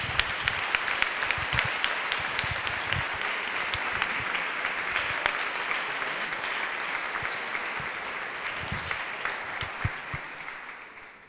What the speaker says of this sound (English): Thank you, big applause